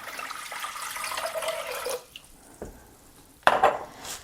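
Four cups of water pour into a pot for elderberry syrup: a steady rushing pour lasts about two seconds, then a few sharp clanks of the pot, with no voices.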